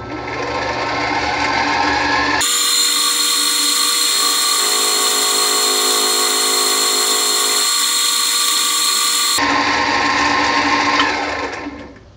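A machine whines loudly and steadily for about seven seconds while making a cutting pass on a dovetail for a homemade boring head gib, with running machinery rumbling before and after the cut.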